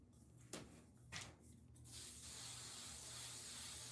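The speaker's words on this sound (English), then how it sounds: "I'm gonna bring some oil, spray on it" Olive oil sprayed onto hair during a braiding session, heard as two short separate spritzes followed by a longer, steady hissing spray that runs to the end.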